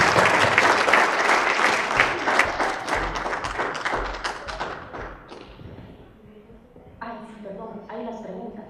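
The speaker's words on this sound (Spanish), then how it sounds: "Un aplauso por favor para ellos." Audience applause at a conference panel session, loud and dense for about five seconds then fading out, followed by someone speaking close to the microphone.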